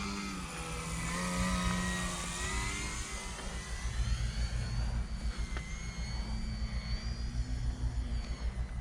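A small electric RC 3D aerobatic plane with stubby wings flies an inverted harrier. Its motor whines in a steady buzz that rises and falls in pitch as the throttle changes, with no voices.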